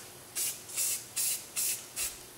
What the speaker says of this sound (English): go and grab the white, spray mostly on the heart stencil